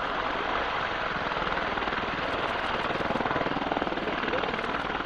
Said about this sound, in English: the British Army Apache attack helicopter.